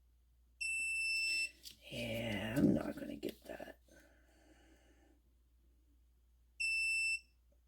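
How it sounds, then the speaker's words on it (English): Beeping from a Presidium gem tester checking Tennessee blue box stones, which beeps when its tip touches metal: a steady high beep for about a second, then mumbled talk and handling noise, then a second identical beep. "That beeping is my Presidium."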